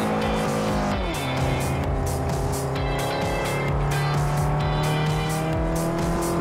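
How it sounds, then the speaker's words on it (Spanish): Race car engine droning at high revs while braking with a long, rising tire squeal in the racing game Forza Motorsport 4, loud and continuous throughout. "No, no ha sido una frenada muy buena."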